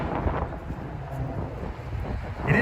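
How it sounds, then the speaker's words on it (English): Wind buffets the microphone on a Park Avenue street in midtown Manhattan at night, a continuous low rumbling roar that swells near the end, with no speech. "It is windy tonight, but not as windy as last night."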